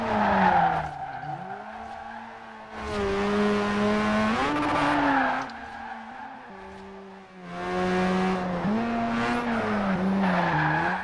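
A 2002 Mazda RX7 Spirit R Type A drifting in Forza Horizon 4, its engine note rising and falling through corners while tires squeal in long sustained bursts, loud and close throughout.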